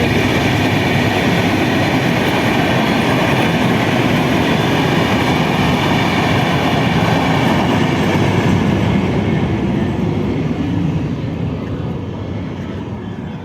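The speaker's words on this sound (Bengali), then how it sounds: "আমরা ট্রেন দেখার জন্য এদিকে আসছি" A train rolls past near a railway station, a loud, close, continuous rumble and roar that fills the clip before slowly easing off toward the end.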